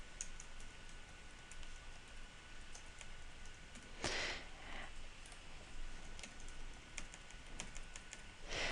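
Steady keyboard typing on a computer as a name is entered into a form, quick light key clicks with a couple of louder clacks, close and alone without talk.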